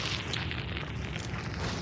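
Dynamite explosion in the first-person shooter Hunt: Showdown: a low, rumbling blast and crackling fire, heard faint and distant, sustained without sharp onset.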